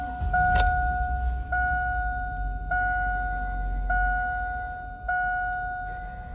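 A Chevrolet GM truck (Silverado, Tahoe, Avalanche or Sierra type) starts up and settles into a low, steady idle rumble, while a two-tone dashboard warning chime repeats at regular intervals.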